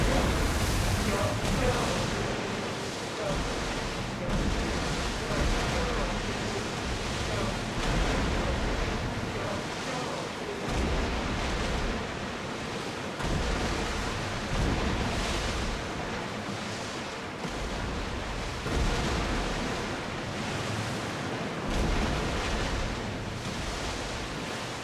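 Rough ocean waves in the video game Assassin's Creed Odyssey, a loud, continuous roar of surf and wind surging in repeated swells, with a voice talking over it at times.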